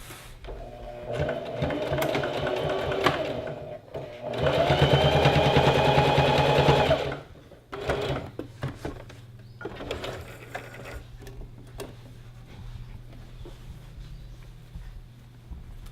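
Sewing machine stitching down the rolled, folded hem of a gathered skirt with pockets, running in two sustained bursts (the longer and louder one in the middle), with quieter handling and rattling between runs.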